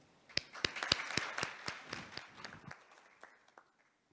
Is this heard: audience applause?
yes